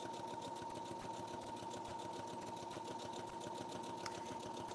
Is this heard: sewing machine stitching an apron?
yes